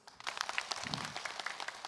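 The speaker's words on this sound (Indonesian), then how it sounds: "Tepuk tangan dulu." Light, scattered clapping from a studio audience at an Islamic talk show, a fairly quiet patter of separate claps rising after a brief hush and continuing unevenly.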